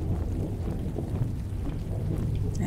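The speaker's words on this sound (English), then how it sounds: "I love the like rain ambiance too. Little bit of thunder, I suppose, is okay." Steady low rumbling rain ambience with soft thunder in a video game forest level, continuous and fairly quiet, with no distinct thunderclap standing out.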